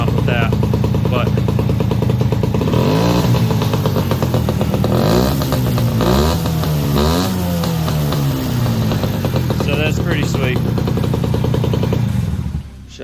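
A Yamaha PW50 dirt bike engine running after repair work, a loud close two-stroke buzz that rises and falls with throttle blips before cutting out near the end.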